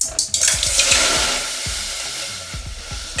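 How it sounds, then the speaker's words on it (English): Coconut water poured into a hot pot hisses and sizzles in a bright steady wash, with small clanks and bubbling pops at the start and end. "I'm gonna start by adding some coconut water to the pot."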